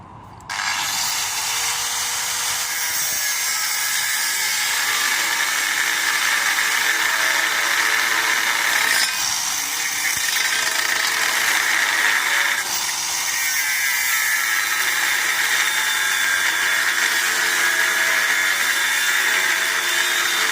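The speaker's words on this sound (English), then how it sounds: "I'm just trimming down this spring hanger to the right length." A power tool trims a corroded steel trailer spring hanger to length, giving a loud, steady grinding whine that runs almost unbroken for about twenty seconds, with slight dips in pitch as it bites.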